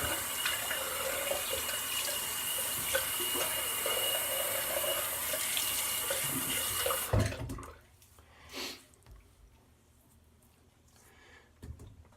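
Running water pours loudly and steadily from a tap during a rinse after a wet shave, then cuts off abruptly, leaving quiet splashes and small handling sounds.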